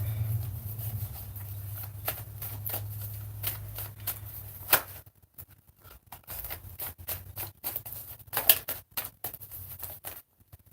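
Tarot cards are handled close up, giving intermittent crisp flicks, slides and papery snaps in irregular bursts. A low hum sits under the first half.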